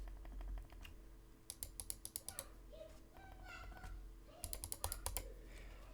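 Quiet clicks from a Logitech Ergo Lift vertical mouse come in short bursts of soft tapping, close and faint over a low background hum, with a cat meowing briefly between them.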